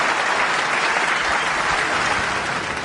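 A Crucible crowd at a snooker match gives Ronnie O'Sullivan a loud, dense ovation against Mark Williams, steady sustained clapping filling the hall throughout.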